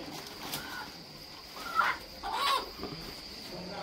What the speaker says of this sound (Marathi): हे 5 कोंबड्या आहेत मस्त.